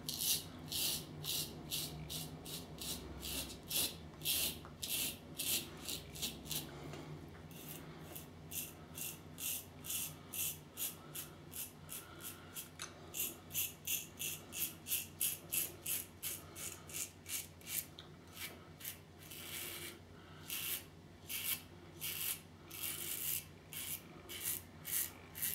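A Merkur Vision safety razor scrapes across facial stubble against the grain in a rapid series of short rasping strokes, close and fairly quiet, with steady background hum and no voices.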